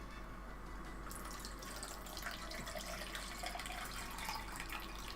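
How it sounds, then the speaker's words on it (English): Water running from a tap into a sink, a faint steady splashing stream that grows slightly busier partway through, heard alone without talk. "Also, water ASMR."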